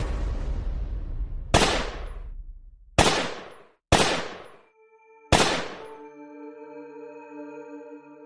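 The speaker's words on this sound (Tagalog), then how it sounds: "Nang talunan ng aswang si Rafael, doon kami agad nagpaputok ng baril." Gunfire sound effect: four loud, sharp shots at irregular intervals, each with a quick decaying tail, the last one followed by a lingering metallic ringing tone.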